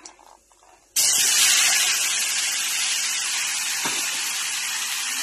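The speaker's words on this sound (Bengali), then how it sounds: "এবার আমি টমেটোটা দিয়ে দেব" Tomatoes drop into hot oil reddened with tempering spices and burst into a loud, close sizzle after a second of quieter kitchen sound, the hiss staying strong and steady to the end.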